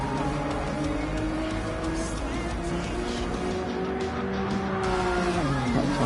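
A race car lapping Brands Hatch in a GT racing video game, its engine droning steadily at close range with shifting pitch and a drop near the end as it brakes or changes gear.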